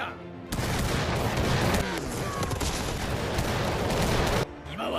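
Musket volley fire in an animated battle scene, a loud dense crackling fusillade of many guns that fills most of the moment, ending abruptly, with no voices over it.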